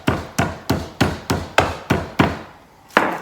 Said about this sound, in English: She's hammering her chicken.